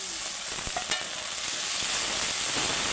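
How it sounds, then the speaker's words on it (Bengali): Ginger garlic paste sizzling in hot oil with fried onion and tomato, a steady bright frying hiss with a few stirring knocks and pops. "এবার আমি ওটা আদা রসুন বাটাটা দিয়ে দেবো"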